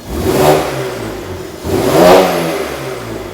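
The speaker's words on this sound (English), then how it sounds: "So this is comfort with a warm engine as well." A warm BMW M3 engine in comfort mode revs up twice in quick succession, each rise swelling to a deep, loud roar before falling back to a rumbling idle, heard close up.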